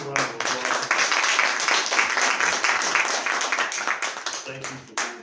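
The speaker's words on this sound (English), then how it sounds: "All right, let's give a round of applause." Audience at a political forum applauding elected and former elected officials, a fairly soft, sustained patter of clapping from a crowd that tapers off near the end.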